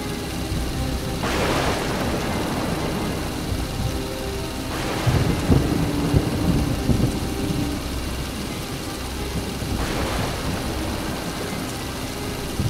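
Story sound effect of a thunderstorm on open water near an island: steady heavy rain and wind with three rolling thunder rumbles spaced a few seconds apart, no voices.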